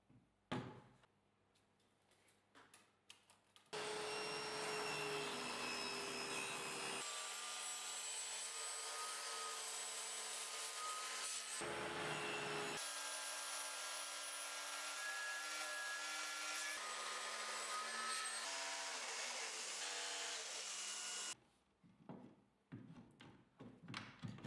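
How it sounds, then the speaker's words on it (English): A table saw spins up and cuts wood for a rip cut guide, a loud, sustained whining roar lasting most of the stretch, with pitch shifts as the blade bites, then winding down amid shop clatter. "I mark the hole where the circular saw will go and cut it on the table saw."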